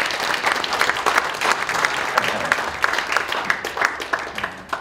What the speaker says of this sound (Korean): 우리가 한번 박수로 한번 환영 한번 드리겠습니다